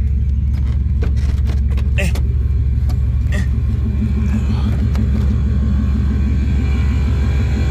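Air compressors run on a bagged truck, a loud, steady low droning hum that holds without a break, with small clicks and rattles scattered over it and faint voices underneath.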